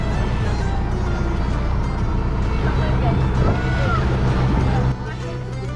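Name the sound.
boat passing by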